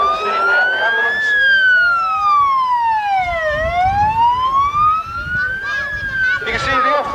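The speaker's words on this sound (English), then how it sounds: "Also now arriving on the scene, we have the ambulance." An ambulance siren wails as it arrives at a fire engine rally in Preston Park, loud and close, its pitch rising and falling in long sweeps over a rumbling engine, with an announcer talking over it.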